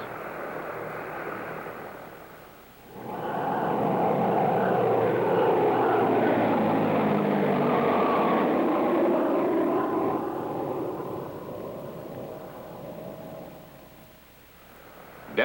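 A low-flying observation aircraft passes along a ridge line, its broad engine roar swelling in after about three seconds, holding loud and steady, then easing off toward the end, with no talk over it.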